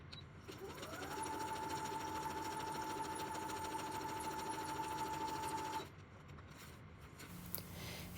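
A sewing machine stitches magazine clippings onto a junk journal page, one steady whirring run that holds even for several seconds before stopping abruptly, then a few faint handling noises. Quiet and close, with no talking.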